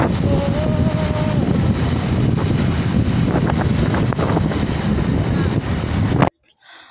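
Heavy wind roars and buffets steadily while riding a motorcycle toward a church for a baccalaureate mass, a loud, close, unbroken rush that cuts off abruptly near the end.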